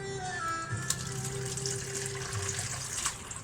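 Liquid poured into a bowl in a home kitchen: a continuous trickling, splashing stream with faint clinks, close and fairly quiet, with no talking.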